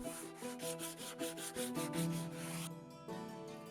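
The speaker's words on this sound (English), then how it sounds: "I'm burning the top of the bench until it's black, and then I brush it gently with some sandpaper." Sandpaper brushed gently across a charred, burnt-black wooden bench top, giving a run of quick rhythmic rasping strokes close by over a steady tonal background, then a smoother continuous rub.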